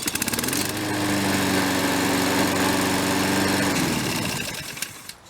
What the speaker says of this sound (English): This Honda GCV 170. 1, cold start,